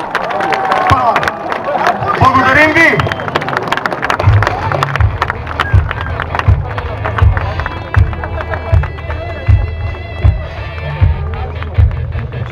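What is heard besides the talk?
crowd applause at air show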